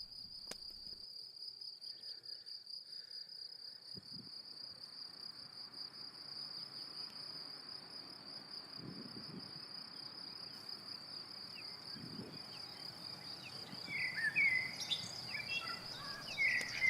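Crickets chirp steadily in a spring pasture, a continuous high trilling drone throughout, with a few brief bird calls joining near the end.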